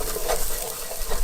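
Two cloves of minced garlic sizzle in a pan over medium heat, a steady, close frying hiss throughout.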